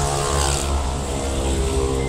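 A Honda Brio hatchback left in Jakarta floodwater runs with a steady, loud engine drone and low harmonic hum throughout, close by, with no voices over it.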